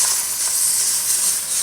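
Orange juice steams in the hot well of a Cobb BBQ while pork belly chops cook above it. A steady, fairly loud hiss with a faint sizzle continues unbroken, with no voices.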